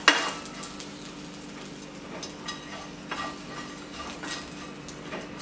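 Mashed potato filling for batata vada, sprinkled with salt and stirred quickly in a pan over a low flame: faint scraping strokes and light clicks of a spoon against the pan over a soft, steady sizzle.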